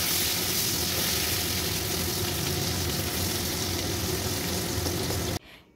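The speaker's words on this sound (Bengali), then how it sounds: "আলুগুলোকে ভালো করে ভেজে নেব" Diced potatoes fry in hot oil with panch phoron, salt and turmeric for kumror chhokka, giving a steady, dense sizzle at close range that cuts off abruptly near the end, leaving a quiet tail.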